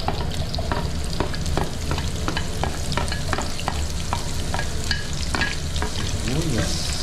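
Onions fry in a pan with a steady sizzle while a utensil stirs and scrapes repeatedly, close and loud throughout, with no talk.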